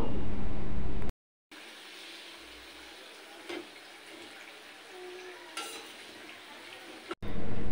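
Khaja pastries made from flour sizzle in hot oil as they are flipped, a steady frying hiss with a few scraping clicks of the spatula, cut off by brief silences at the start and end.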